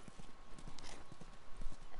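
Horse hooves clip-clop in a video game, a steady run of close, fairly loud hoofbeats with a regular walking rhythm and a soft background bed.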